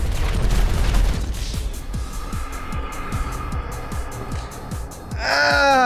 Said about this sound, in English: The explosion's negating all my shots.